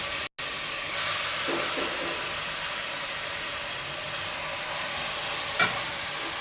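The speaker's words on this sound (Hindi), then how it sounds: "अब इसको अच्छी तरह कीमा को भूनेंगे।" Half a kilo of washed, dried minced meat frying in a pan, giving a steady, even sizzle with a brief clatter of stirring, close and without talk.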